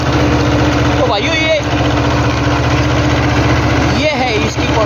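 A Mahindra Jivo 225 DI tractor engine runs steadily while sowing a field, a loud continuous droning chug with a constant low hum, and a couple of faint squeaky tones passing over it.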